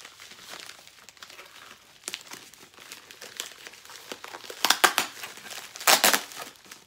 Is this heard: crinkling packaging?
yes